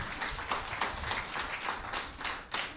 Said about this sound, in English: Come give Jesus a round of applause tonight.